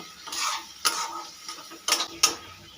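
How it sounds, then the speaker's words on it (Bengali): A spoon stirs spice paste for Kashmiri aloo dum as it fries in a pan, with soft scraping and a few sharp knocks against the pan's rim, close and fairly quiet. "এবারে সমস্ত মশলা খুব ভালো করে একসাথে কষিয়ে নেব"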